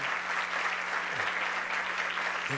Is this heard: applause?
yes